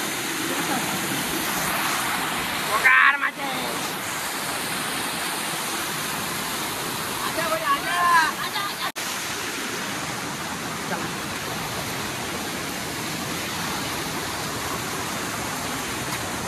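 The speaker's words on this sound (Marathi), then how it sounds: "फायनली वॉटरफॉल आलाय." A waterfall roars as a steady, dense broadband wash throughout, with a brief louder rustle near the start and a faint voice around the middle.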